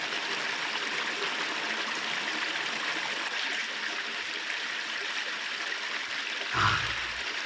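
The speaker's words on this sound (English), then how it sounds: "just a litre of water out of a nice stream like that" A nice cold stream on the Isle of Jura, Scotland, is tapped for a litre of drinking water. Steady close-up rushing and trickling runs throughout, with a brief louder splash near the end.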